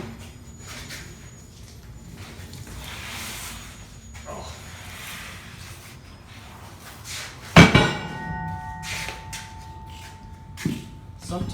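A hammer strikes a tire to help break it off the rim, one sharp loud blow standing out from quiet shop background, with a later lighter knock.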